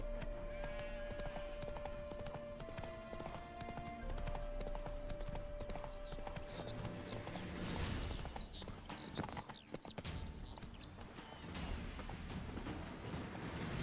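Hooves of a galloping horse clip-clop in a fast, steady rhythm within The Witcher 3 video game, over a held music tone and occasional mechanical clatter, with a brief whinny-like sound.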